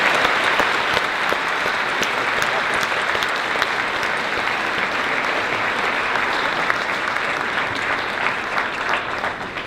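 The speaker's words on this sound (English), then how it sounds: "Let's give a huge round of applause to our veterans who are here with us today." A high school Veterans Day assembly crowd applauds the veterans present, with sustained, even clapping from a large audience filling the whole stretch at moderate loudness with no talk over it.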